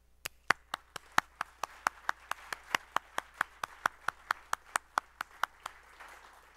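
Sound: audience applause for conference committees

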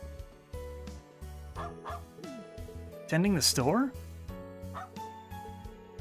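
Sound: dog barking in a video game (Trails of Cold Steel 3)

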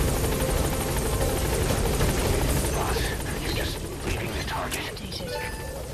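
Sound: helicopter hovering at landing zone in Metal Gear Solid V video game

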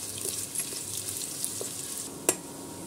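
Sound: frying sliced onions in hot oil

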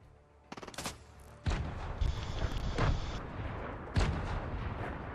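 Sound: grenade explosions in a video game

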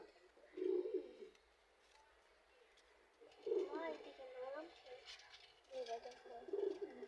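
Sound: pigeons cooing

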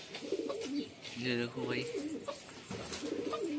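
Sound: black pigeon cooing in a loft

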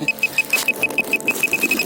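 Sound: electronic beeping

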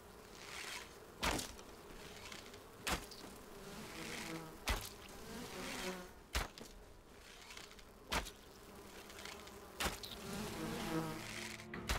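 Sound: swarm of bees buzzing in the video game Enshrouded

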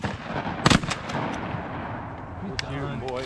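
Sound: shotgun shots at geese during a goose hunt

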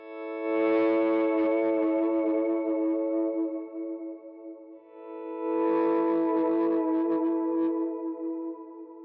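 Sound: electric guitar part with chorus effect

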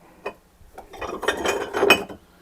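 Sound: crystal glassware clinking or breaking

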